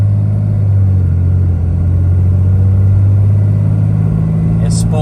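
A Ram Cummins 6.7 diesel engine in a fourth-generation pickup at about quarter throttle, a loud steady low rumble with a droning hum and faint turbo whine, with a brief high hiss at the end.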